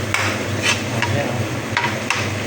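Ginger and garlic are sautéing in a pan, with a low hiss under a few distinct scrapes of a spatula, close and fairly loud, spaced unevenly over a couple of seconds.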